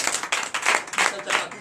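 Congregation at a night deliverance and prophecy service claps in acclamation, close rhythmic bursts of many hands in quick uneven pulses, briefly and loudly.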